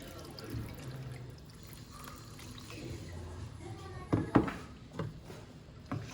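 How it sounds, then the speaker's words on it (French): Water is added to a pan of thawing sorrel while cooking, with faint trickling and a few soft splashes and clinks close by, plus quiet background noise. "J'ajoute un peu d'eau."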